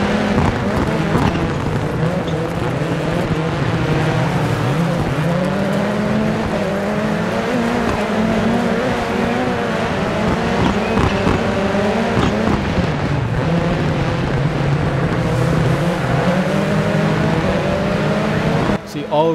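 Rallycross cars race in heavy rain in DIRT 4 on French and English tracks, engines roaring and shifting continuously at close range, with tyre hiss and skids under a steady commentating voice.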